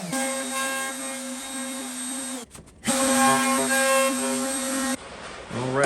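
A router cutting door hinge mortises for hanging a slab door screams at a high steady whine, briefly drops out and restarts, then winds down near the end, loud and close with no talk.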